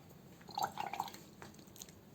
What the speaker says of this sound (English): So I'll dip my brush in the water